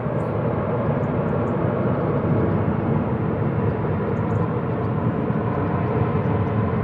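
A Boeing 737-800 jet departing Manchester Airport gives a steady, broad engine rumble that holds at a moderate level for the whole stretch, heard from some distance with no voices.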